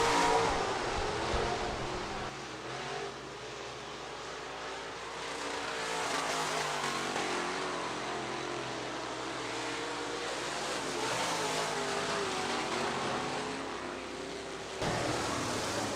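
360 sprint race cars roar around Rapid Speedway during a heat race, a steady loud engine drone that swells and fades as the pack passes, with no talk over it.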